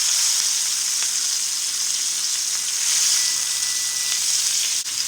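Pork chops and peppers sizzle on a grill, a steady, close hiss of frying fat that holds evenly throughout with no talking.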